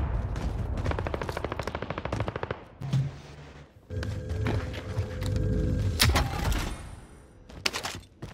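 Video game gunfire, a rapid automatic burst of closely spaced shots followed by scattered single rounds and a few heavier bangs, loud and close with short pauses between volleys.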